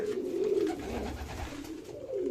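Pigeons in an aviary coo in a steady, close, continuous murmur of overlapping low calls, fairly loud and without any talking.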